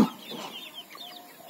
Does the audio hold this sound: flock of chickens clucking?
yes